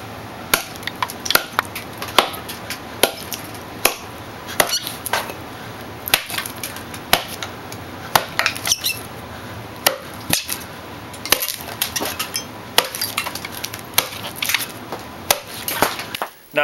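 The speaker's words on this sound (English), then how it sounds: "with my axe, I'm going to be cutting across and down and across and down to take wood out" An axe hews out the center of a hand-carved maple wood bowl, striking across and down in a steady run of sharp, close chopping blows, roughly one or two per second, with splintering wood between strikes and no talk.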